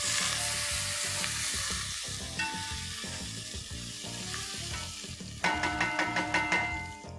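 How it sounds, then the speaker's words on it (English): Ginger and garlic sizzling in a frying pan over softened onions while making a homestyle Indian chicken curry, a steady close crackle and hiss with a few stirring clicks toward the end. "Sizzle, sizzle."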